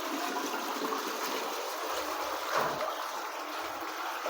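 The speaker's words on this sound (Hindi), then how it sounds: "अब मेरी मम्मी ये बाल्टी साफ करके पीने के लिए पानी भर रही हैं।" A bucket being filled with drinking water after being cleaned, a steady rushing and splashing stream that runs unbroken and close, with no talk over it.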